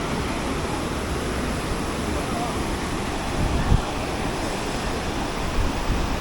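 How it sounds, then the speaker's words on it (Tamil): Water rushing at Iraichalparai waterfall near Kanthalloor, a loud continuous broadband roar with no breaks, heard close and alone. "தண்ணி இங்கே எப்படி அடித்து போயிட்டுருக்கு பார்த்தீங்களா?"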